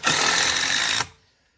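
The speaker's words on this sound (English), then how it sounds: "So I'm just going to punch these screws in." A drill drives screws into a composite step frame during a small DIY step build, giving one steady, loud, continuous whirr that lasts about a second before stopping abruptly.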